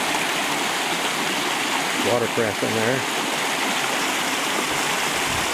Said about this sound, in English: you can hear the creek just roars, more like a small river